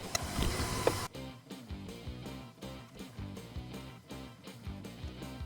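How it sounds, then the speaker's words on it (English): A 3D printer runs in a home workshop, its stepper motors whirring and stuttering in short rhythmic bursts with shifting pitches, steady and close. "Time to go into the nerd cave and turn on the 3D printer."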